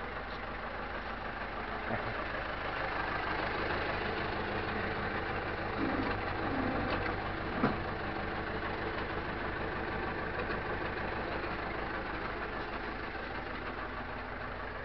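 A tractor engine idles steadily with a low, even rumble that barely changes, broken only by a few faint knocks and clanks.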